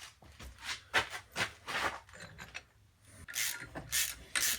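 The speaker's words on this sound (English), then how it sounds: "you just begin tightening down and it'll slowly begin to press it into place" A sleeve press is tightened by hand to seat a spindle bearing on a Central Machinery 46199 3-in-1 mill lathe, giving a series of close, irregular ratcheting and creaking clicks in short bursts with brief pauses.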